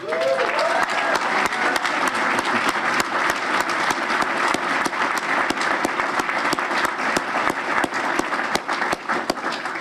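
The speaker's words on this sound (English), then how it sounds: "please join me in a round of applause as we celebrate the architect of this amazing event, Patty McCormick" A luncheon crowd at a South Boston Boys & Girls Club St. Patrick's Day event applauds the event organiser, steady full-room clapping that carries on for about ten seconds, with a brief voice at the very start.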